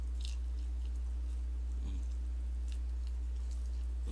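Biting into crunchy fried turkey skin, a few close crunchy chews spaced across a few seconds, fairly quiet over a steady low hum.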